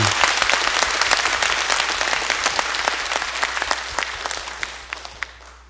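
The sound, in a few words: church congregation applauding in praise of God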